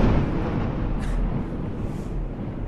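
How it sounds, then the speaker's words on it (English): A large explosion sounds as a deep, rumbling roar that fills the low range and rolls on steadily without a clear sharp onset, heavy and sustained throughout. "Well, that was a rather large explosion."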